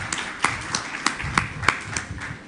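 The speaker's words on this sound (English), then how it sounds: "Can we have a huge round of applause for both the sisters?" An audience at a live event applauds, with a sparse scattering of distinct claps rather than a dense roar, moderately close and without speech.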